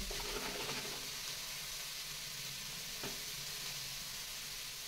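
Shredded cabbage sautéing in a hot pan, a steady broadband sizzle and crackle that holds evenly throughout, with a brief stir or scrape near the middle and no talking.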